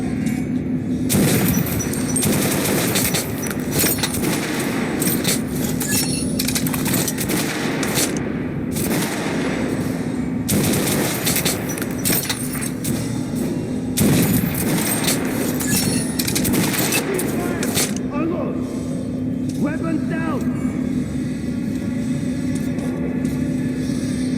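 Sustained gunfire from Metro Last Light rattles through a dense, loud battle. Rapid bursts and booms run almost without pause over a steady rumble, and shouted voices come through at times.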